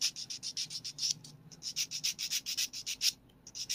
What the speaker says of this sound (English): we're gonna start with filing our nails